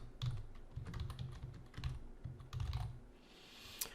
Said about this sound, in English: I'm gonna type the name of the business.